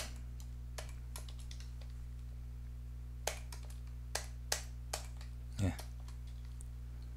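Sparse computer keyboard clicks while typing HTML code, a handful of isolated keystrokes spaced apart over a constant low electrical hum, faint and close.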